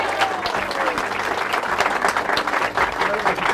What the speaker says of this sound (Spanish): te damos un aplauso